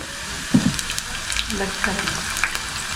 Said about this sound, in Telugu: ఫ్రై చేసుకోవాలండి ఆనియన్స్ని ఈ ఆనియన్స్ కానీ మనకి కానీ బాగా ఫ్రై అయితే టేస్ట్ అనేది సూపర్గా ఉంటుంది